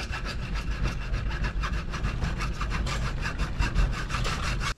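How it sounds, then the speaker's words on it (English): A cutoff wheel works through a 3-inch PVC cap clamped in a vise, a steady gritty rasp with rapid pulsing strokes, close and loud, ending abruptly. "so I'm cutting this off with a cutoff wheel right here."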